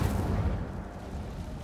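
Incendio fire spell cast in Hogwarts Legacy, a heavy, rumbling whoosh of flame that bursts loud at once and then roars on steadily, dense and low, with no talk over it.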